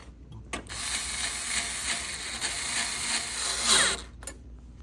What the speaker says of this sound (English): And then you're going to want to reinsert the two screws.